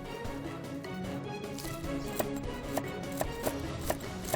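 A knife chops Chinese toon shoots on a board, a series of sharp, evenly spaced taps that grow clearer partway through, over a soft steady background.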